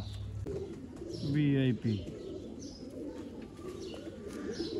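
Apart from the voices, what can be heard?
pigeons cooing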